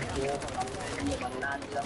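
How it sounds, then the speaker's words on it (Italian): Rapid bursts of Warzone gunfire crackle under excited talking, dense and mid-level throughout the short stretch. "Gli spariamo nel sederino a King Kong, dai!"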